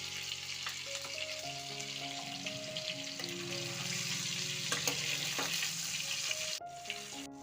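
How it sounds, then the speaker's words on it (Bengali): Paneer cubes frying in hot oil in a wok, a loud steady sizzle with occasional crackles, accompanied by a soft melodic tune in the background. "এবার কড়াইতে একটু তেল গরম করে পনিরগুলোকে প্রথমে ভেজে নেব।"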